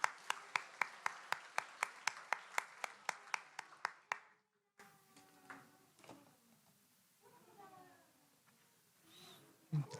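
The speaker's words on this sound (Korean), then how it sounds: "우리 한 번 더 축복의 박수하도록 하겠습니다" A church congregation claps at a Sunday worship service, about fifteen steady, evenly spaced claps over roughly four seconds, fairly quiet. The clapping then stops, leaving faint scattered sounds and soft voices.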